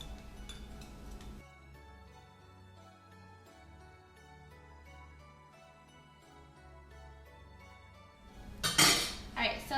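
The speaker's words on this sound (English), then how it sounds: "I like to switch it over to a whisk, or you can switch over to a fork" Cocoa powder and coconut oil whisked in a bowl for a chocolate recipe, a run of quick light metal clinks and scrapes against the bowl, followed by a louder burst of clattering at the end.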